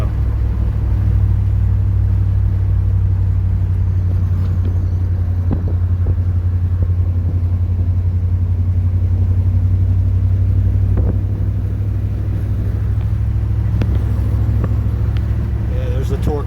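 A 1973 Ram 100 pickup truck cruises steadily in fourth gear, its engine giving a deep, even, close rumble that holds constant throughout with light road noise over it.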